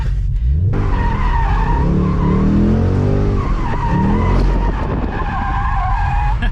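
A Ford Mustang S650 skids into a half spin, its tires squealing loudly in long wavering tones over a steady, close engine roar that runs the whole time without pause.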